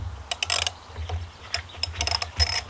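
Part of a lift pump is tightened by hand while a screwdriver jams the impeller, producing close, irregular metallic ratcheting clicks and short mechanical rattles in quick bursts over a low hum.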